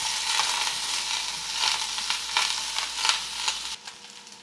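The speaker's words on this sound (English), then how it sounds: "we're going to saute these onions for about 5 minutes in about a tablespoon of butter" Onions sauteing in about a tablespoon of butter in a pan over medium heat, a bright continuous sizzle with occasional stirring scrapes, close and alone before it cuts off near the end.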